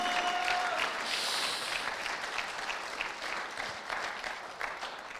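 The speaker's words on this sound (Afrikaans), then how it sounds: "Ag kom aan, kom ons klap vir die Here." A church congregation applauds steadily together, a broad, dense clapping that holds loud for about five seconds before slowly thinning, with a faint voice or tone near the start.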